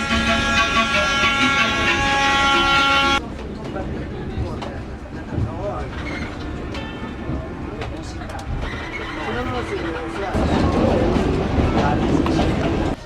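A passenger train moves along its rails in Peru on the line toward Ollantaytambo, with steady rolling rumble and clatter heard from inside. A voice talks over it, and the noise swells louder near the end.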